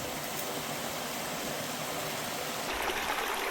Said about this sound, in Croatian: Još jedan vodopad u nizu.